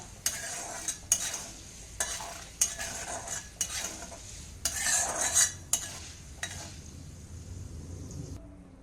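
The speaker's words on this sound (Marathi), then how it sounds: "आता इथे आपण मिरे तळून घेऊया थोडा कमी गॅसच करायचा आहे कारण मिरे तेलामध्ये उडता" Black peppercorns frying in oil in a pan on a low flame, a soft steady sizzle broken by sharp metallic clinks and scrapes of a spoon stirring at irregular intervals, close and without talk.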